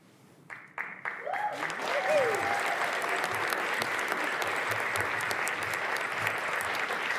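A few first claps quickly swell into full, sustained audience applause for law school graduates at a winter commencement ceremony, with faint voices and cheers within the crowd.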